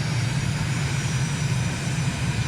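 An aircraft engine drones steadily in a flight simulator game, a loud continuous propeller-like roar with a strong low hum, unchanging and alone without speech.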